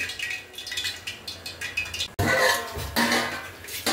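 Metal and ceramic clatter at a home stove while fish sambar cooks, with a plate set over the cooking pot; repeated scrapes and clinks, then a sharp knock and a louder rattling clash, close by, with no talking.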